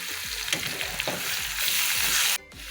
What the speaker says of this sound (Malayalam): തക്കാളിയും കൂടി ഇട്ട് ഇനി വഴറ്റണം